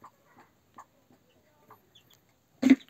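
An Aseel hen gives soft, evenly spaced low clucks while feeding her chicks in a coop, followed by one louder, closer cluck at the end.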